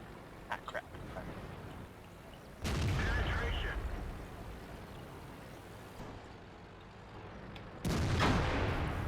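Tank cannon fire in a tank combat video game, two heavy booming blasts several seconds apart over a rumbling engine and battle noise, with someone talking over it.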